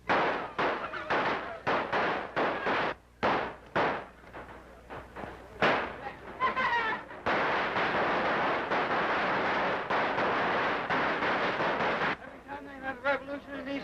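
Burst after burst of gunfire and cannon blasts from a 1934 film, loud and rapid, with irregular sharp cracks and dense rolling explosions that build into a sustained barrage.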